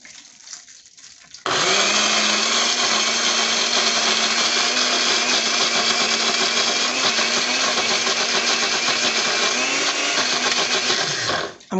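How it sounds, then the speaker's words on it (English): A blender whirs loud and steady at full speed for around ten seconds after a quiet start, then cuts off abruptly at the end. "And blend."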